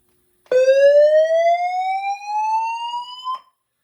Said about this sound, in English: it will go back into its evac sequence, which is 3 slow whoops plus VROM A, which is the message